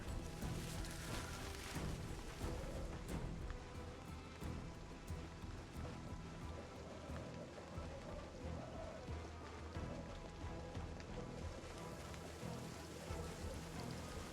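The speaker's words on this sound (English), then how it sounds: "I'm wondering how terrible this episode will look with the rain and YouTube compression." Steady rain falls continuously across the scene in the zombie survival game Project Zomboid, a dense, even hiss of drops with faint low rumbles beneath, loud and unbroken throughout with no talking.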